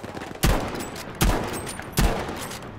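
Gunfire in Battlefield V, three sharp heavy shots spaced evenly about three quarters of a second apart, each with a short echoing tail, loud and close with no talk.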